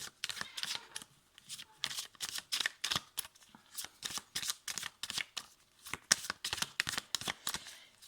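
Tarot cards being shuffled by hand, a steady run of crisp riffling bursts repeating quickly and close by, with no talking over it.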